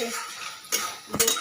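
Mustard and dried chilli paste stirred into an arum stalk curry in a pan, heard as a few brief scraping clinks of a spoon or spatula against the pan, fairly close and alone.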